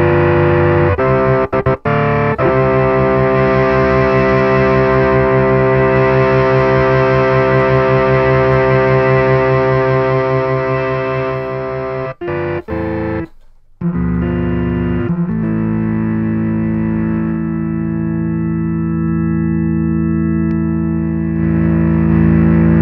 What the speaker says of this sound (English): It's a vintage tube overdrive.